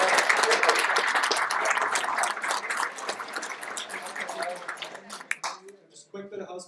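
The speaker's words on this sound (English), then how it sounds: "let's just give every team another round of applause" An audience applauds the teams after final pitches, a loud burst of dense clapping with scattered cheers that thins out toward the end as a voice begins speaking.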